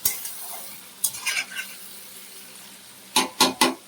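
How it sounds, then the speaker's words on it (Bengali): Vegetables are fried together in a pan in an indoor home kitchen. A utensil scrapes and stirs in a short cluster, then three sharp strokes land near the end over a low background sizzle. "বাড়িয়ে দিলে এগুলো একসাথে ভেজে নেবো,"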